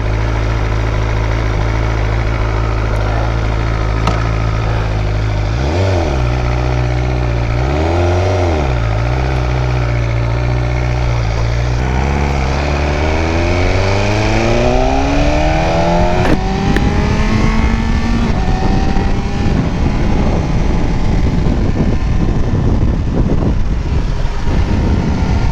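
A crashed BMW M1000RR superbike with its fairings removed idles close by, blips the throttle twice, then revs in a long, steady climb to a loud, sustained high-rpm roar, with no talk.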